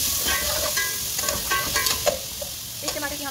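Chopped tomatoes frying in about four tablespoons of hot cooking oil, a steady loud sizzle broken by stirring clinks and scrapes throughout, with no voices.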